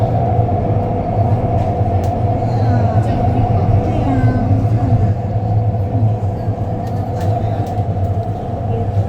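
A metro train runs above ground in Shenzhen, a loud constant rumble with a steady hum throughout, heard from on board with faint voices underneath.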